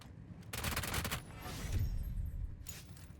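Sustained bursts of automatic gunfire in the battle-royale video game PUBG, loud and rapid, with a short pause partway and a final burst near the end.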